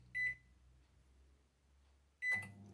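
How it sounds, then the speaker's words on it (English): A microwave oven gives two short, sharp electronic beeps about two seconds apart, with a faint low hum in between. "Now this goes in the microwave for 5 minutes."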